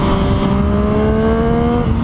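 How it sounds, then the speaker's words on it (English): A Yamaha motorcycle fitted with a Yoshimura exhaust drones loud and close, its engine holding a steady, rising rev for two seconds with strong harmonic tones and no talking over it. "I love to hear this thing. I love the exhaust on this bike."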